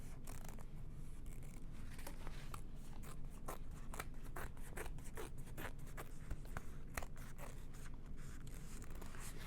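Fabric scissors trimming the seam allowance on a tote bag, giving a steady run of quick, close snips with crisp metallic clicks and a soft crunch through the cloth.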